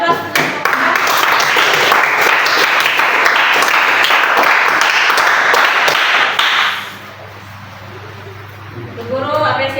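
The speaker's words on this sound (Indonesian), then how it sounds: "Beri aplaus." A classroom of students gives a sustained burst of loud, dense clapping for a student presentation, then it stops abruptly and a teacher's voice speaks over quiet room tone.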